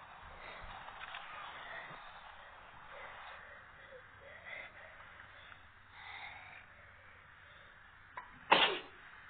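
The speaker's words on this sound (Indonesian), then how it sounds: "maaf ya teman-teman, lagi bersin ini" A single sharp sneeze bursts out near the end, loud and close, following a stretch of faint background noise and quiet toy-play sounds.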